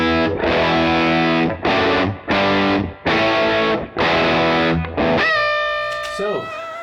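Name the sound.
Squier Bullet guitar bridge pickup, high gain distorted tone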